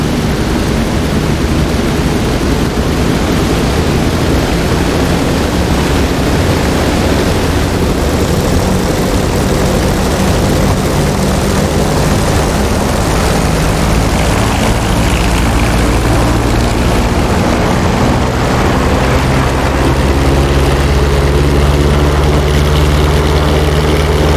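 A P-47D Thunderbolt's big radial propeller engine roars at full power during a takeoff roll in the DCS flight simulator, a loud, continuous, deep droning rumble that builds slightly toward the end.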